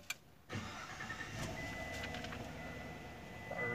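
A 2021 GMC Sierra pickup starts with a push button: a short click, then the engine catches and settles into a steady, close idle hum with a faint electronic chime running over it.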